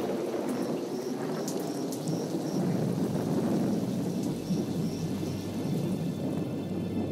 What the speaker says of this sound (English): Tremendous thunderstorms rolled over the hills. And at last, the rains arrived.